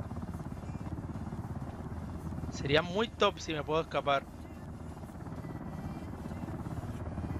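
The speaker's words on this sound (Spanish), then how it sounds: "Ahí viene el helicóptero." Helicopter approaching in the video game Ring of Elysium, a continuous low rotor throb and engine drone running throughout, with someone briefly talking over it in the middle.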